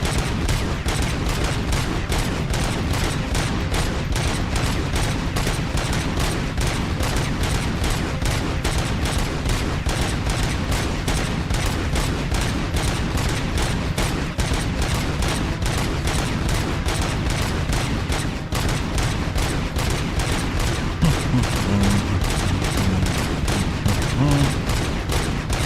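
Sustained gunfire in RoboCop: Rogue City, a rapid, unbroken stream of shots at an even, steady rhythm, loud and close throughout, with faint talk underneath.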